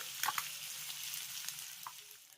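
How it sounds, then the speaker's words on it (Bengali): Eggs frying in oil in a pan for a Bihari-style egg curry, a steady close sizzle with a few brief crackles and spatters, no talking. "আমি ডিমটাকে দেখুন খুব সুন্দর একেবারে লাল লাল করে ভেজে নিয়েছি"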